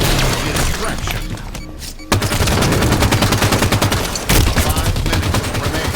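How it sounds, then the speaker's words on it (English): Rapid automatic gunfire from a Halo 5 Guardians multiplayer match rattles in dense, loud bursts close by, with brief gaps between volleys and a faint game voice underneath. "Shots fired."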